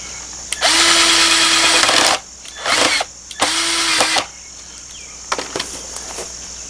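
A cordless power drill drives screws in a tractor shed build, with two long high-pitched whirring runs and shorter bursts between them, close and loud, followed by quieter clicks and rattles.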